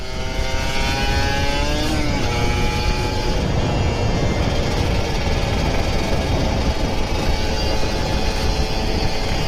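A Kawasaki Ninja RR 150 two-stroke motorcycle revs on an empty city road during a morning ride on Thamrin. A loud, steady engine drone rises in pitch early on, then holds, with heavy wind rumble underneath.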